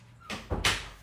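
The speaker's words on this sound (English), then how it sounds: "Close the door." A door swings and shuts with a soft thud followed by a brighter latch click, one quick close heard up close.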